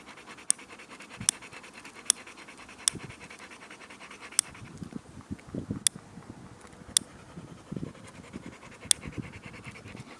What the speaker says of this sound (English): You're panting a bit.